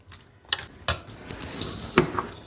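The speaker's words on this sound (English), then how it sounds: "So now we are going to give it a final mix." A spoon clinks and scrapes against a bowl while fox nuts (makhana), cucumber and yogurt are mixed together. The sharp metallic taps are close and irregular, with a soft stirring rustle between them.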